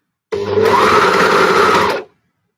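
A sewing machine stitching a T-shirt runs in one loud, steady burst of about two seconds, with a rapid whirring motor hum that starts abruptly and winds down at the end.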